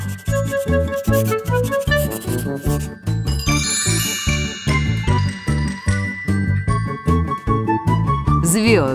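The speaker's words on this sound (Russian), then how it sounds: "Красный. Колокольчик." Small bells jingle and chime in bright rhythmic bursts over a cheerful musical backing in a children's cartoon, repeating steadily throughout.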